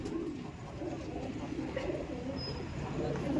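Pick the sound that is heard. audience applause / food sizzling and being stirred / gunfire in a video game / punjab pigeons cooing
punjab pigeons cooing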